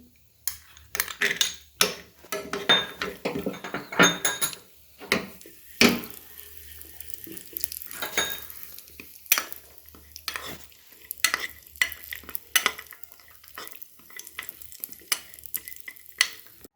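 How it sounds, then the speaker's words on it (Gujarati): Raisins fry in hot ghee in a pan, a steady sizzle broken by repeated scraping and clinking strokes of a spoon as they are stirred, close and without talk. "આમાં ફ્રાય કરી દઈશું દ્રાક્ષને પણ આપણે આમાં એડ કરી દઈશું"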